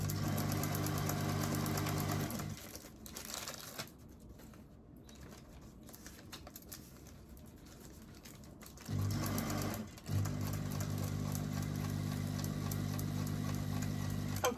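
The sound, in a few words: sewing machine stitching a journal cover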